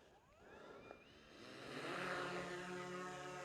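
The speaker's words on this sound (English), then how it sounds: "Let's go ahead and do an auto takeoff on the app." A DJI Air 3S drone auto takes off beside the Snake River Canyon, its propeller whine rising in pitch and growing louder over a few seconds into a steady, close buzzing hum.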